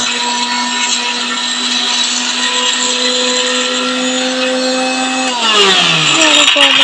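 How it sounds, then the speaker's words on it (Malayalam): A mixer grinder runs loud and close, grinding mango with prawns for a chutney. Its steady high whine holds unbroken, then its pitch shifts and roughens near the end as the load changes. "ഇനി മാങ്ങയും ക്രഷ് ചെയ്യണം കേസ് വലിയ കാര്യത്തിൽ മൂടിയൊക്കെ വെച്ച് അരയ്ക്കുവാൻ വേണ്ടി മിക്സ് ചെയ്ത് അരയുകയാണ്"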